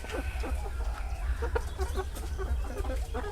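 Laying hens clucking repeatedly in a busy cluster, close by, over a low steady rumble in the background.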